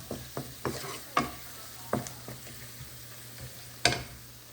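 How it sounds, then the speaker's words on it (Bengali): Spice masala sautéed in a pan the way meat masala is cooked: roughly eight irregular spatula scrapes and knocks ring out over a faint background sizzle, near and without talking. "এই যে মশলাটা ভালো করে কষাই নিছি"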